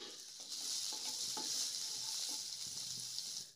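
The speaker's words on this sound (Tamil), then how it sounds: "காஞ்ச மிளகா லைட்டாக வறுபட்டதும் நாம் இடித்து வச்சுருக்கோம் இல்லைங்களா, பூண்டையும் சின்ன வெங்காயத்தையும் சேர்த்துக்கலாம்" Crushed garlic, shallots and dried red chillies fry in hot tempering oil for a coconut milk rasam, giving a steady close sizzle with a few light clicks of stirring throughout.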